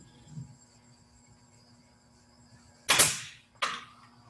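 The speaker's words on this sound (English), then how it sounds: "Shoot a few nails." A nail gun fires two sharp, loud shots into wood about a second apart, standing out against a quiet background hum.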